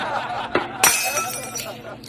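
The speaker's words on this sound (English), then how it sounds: "First, we got to crack and break a couple of eggs, all right?" Eggs cracked for chicken cutlet batter in a home kitchen, two sharp cracks close by, the second louder, with faint room noise behind.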